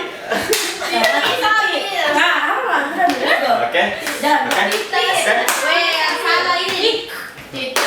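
Children clap their hands in quick repeated bursts during a name game, close and loud, mixed with kids' chatter and light laughter throughout.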